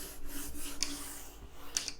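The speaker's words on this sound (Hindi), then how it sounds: "तो लेट मी रब द बोर्ड।" Chalk being rubbed off a classroom board during a lecture, rhythmic back-and-forth scrubbing strokes, close and fairly soft, with no talking.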